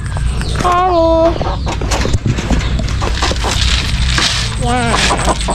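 A chicken being fed clucks and squawks in short rising calls, close and loud, with scratching, pecking and rustling around it while people talk nearby.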